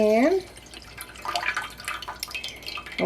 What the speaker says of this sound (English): we are just going to pour the infused water into the pan.